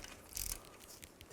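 A ratchet loosens the fill plug on the rear differential cover of a 2000-06 GMC Yukon, giving a short faint burst of clicking close up, then quiet.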